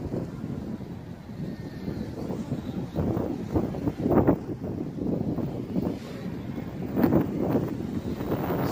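Gusting wind buffeting a flying JJRC X1 quadcopter drone fitted with 6045 three-bladed propellers, a rough low rushing roar that swells and surges in uneven waves.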